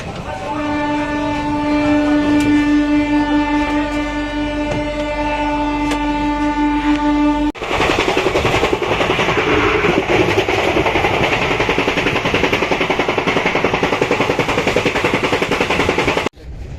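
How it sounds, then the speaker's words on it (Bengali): A train on the way to Himachal Pradesh sounds a long, steady horn, then rolls on with a loud, continuous rattling clatter of wheels and carriages that fills the rest of the stretch. "কিভাবে ট্রেন নামছে কেমন?"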